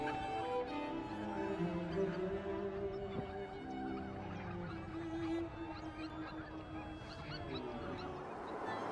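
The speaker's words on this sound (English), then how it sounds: "The ring-necked pheasant makes its home among the grasslands and along roadsides." Ring-necked pheasants and other fowl in Sacramento Valley grassland and wetland give harsh honking, squawking calls, repeated at a moderate distance over steady background noise, with no talk.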